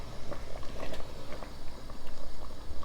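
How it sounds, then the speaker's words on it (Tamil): Dal simmering at a steady boil in a pot of vendakkai sambar, with a dense, continuous bubbling and soft popping close by, fairly quiet and unbroken for the whole stretch. "இப்போ பாருங்கள், பருப்பு நல்லா கொதிக்குது."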